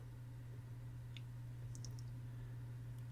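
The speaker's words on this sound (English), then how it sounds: "I'm going to click on Disable News" Mouse clicks on a menu in the Brave web browser on a PC, a few faint, short, sharp ticks spaced apart over a low steady electrical hum.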